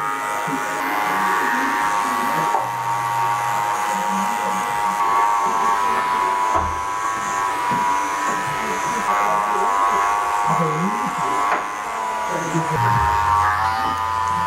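Electric hair clippers buzz steadily while cutting a man's curly hair during a fade, a close continuous hum with slight changes as the blade moves through the hair, under someone talking.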